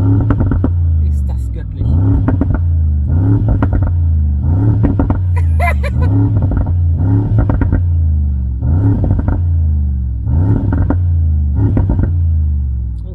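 A Brabus G800 G-Class with 800 hp revs hard, its deep exhaust pulsing through roughly ten rhythmic throttle blips, loud and close, while someone speaks briefly over it.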